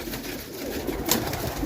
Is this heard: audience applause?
no